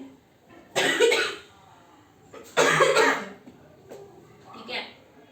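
Two harsh, loud coughing bursts close to the mic, a second apart, followed by a softer third cough; no talking.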